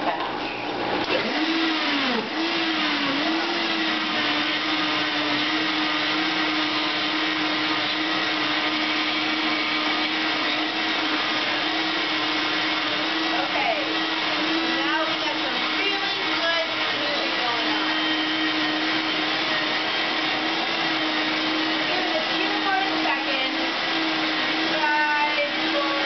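A blender whirs continuously at ultra-fast speed through a very liquid green smoothie, a steady loud motor drone with a shifting pitch over nearly half a minute.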